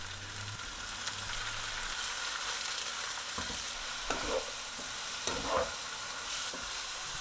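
Thinly sliced beef and onion sautéing in a pan give a soft, steady sizzle with a few light stirring scrapes and clinks, quiet and close, with no voices.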